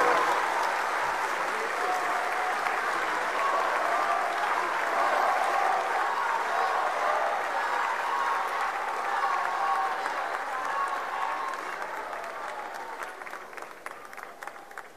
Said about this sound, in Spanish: ya escuchó usted esa ovación de pie que recibió Noroña